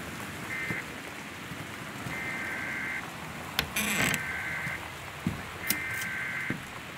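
Torrential rain pours steadily in the video game Gone Home, a dense hiss of drops under stormy weather, with a few short electronic warning tones and brief cracks rising above it.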